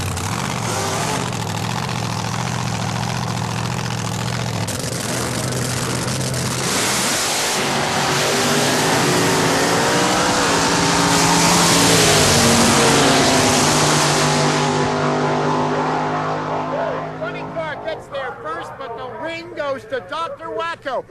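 Drag racing cars, including a supercharged outlaw, launching and roaring down the strip as the quicker Vega chases Elmer, loud engines rising and sweeping past, fading into crackling near the end, with an announcer talking over it.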